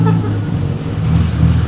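A loud car engine running with no exhaust fitted, idling and revving nearby with a deep, rough rumble over a short stretch, with faint voices in the background.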